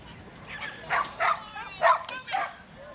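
A dog barks four times in quick, evenly spaced yips at a 2008 USDAA Performance National Finals agility competition, heard at moderate distance over a low background hum.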